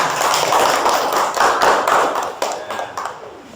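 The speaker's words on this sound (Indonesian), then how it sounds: "Beri tepuk tangan." A classroom audience of students claps after a group presentation on marine ecosystems, a dense, steady burst of applause that stays loud and then thins out toward the end, with no talking over it.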